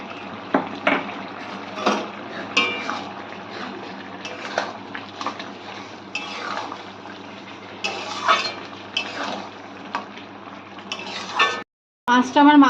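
Bottle gourd greens and small lentil dumplings are stir-fried in a pan, with spatula scrapes and clinks against metal over a low sizzle in uneven, close-up bursts, then a brief silence near the end.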